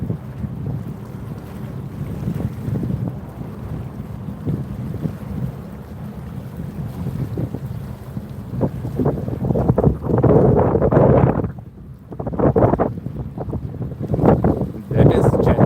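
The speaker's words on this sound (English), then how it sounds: "We can hear Jetstar taking off." Jetstar jet airliner taking off at Sydney International Airport, a broad low roar that swells and surges steadily through the clip, mixed with wind buffeting the microphone outdoors.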